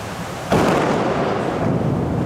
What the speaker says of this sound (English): thunder rolled loud and strong over the city as storms were moving through the CBD